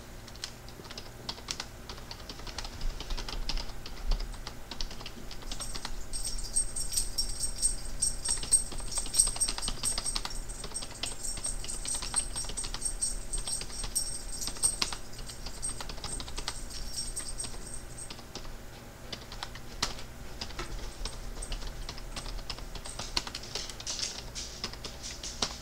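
A question being typed on a computer keyboard: a steady patter of close keystrokes running for about 25 seconds, with brief lulls and no talking.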